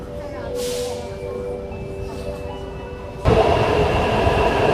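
A train pulls into platform 2 of a Taipei metro station, a steady rumble with faint tonal hum that swells into a louder roar of the carriages arriving near the end, while people speak in the background.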